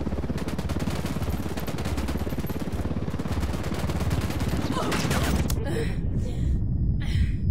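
Rapid automatic gunfire in a video game, a dense rattling fusillade that holds steady for several seconds before cutting off into a few scattered shots and a gasp.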